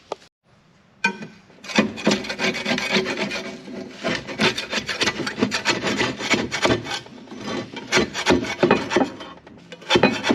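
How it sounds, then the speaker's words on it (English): Scraping an old gasket off a rototiller engine, with a rapid run of loud, close, rough rasping strokes that continue steadily after a short pause at the start. "get that old gasket off of there and get that cleaned up"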